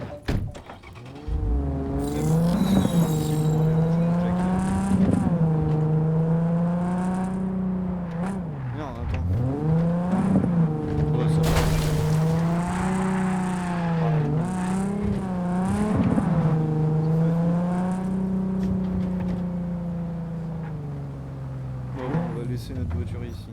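Car engine in the video game Cyberpunk 2077 droning steadily at moderate revs, with rises and dips in pitch as it accelerates and eases off, loud and continuous throughout.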